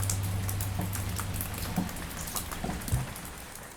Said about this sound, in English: it started to rain, and it poured till quite late in the evening